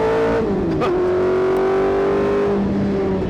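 A Formula One PC3 race car engine, a lightweight single-seater, revs sharply with a quick blip and drop around the one-second mark, then holds a steady high-pitched drone before easing lower near the end, loud and close with no talk.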